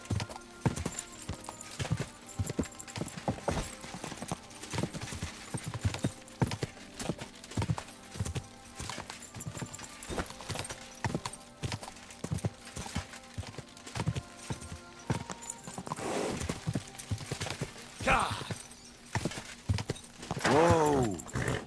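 Horse hooves clip-clop in Kingdom Come: Deliverance 2, a steady rhythmic run of close hoofbeats with a short whinny and snorting toward the end.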